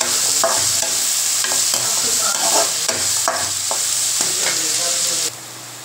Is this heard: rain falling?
no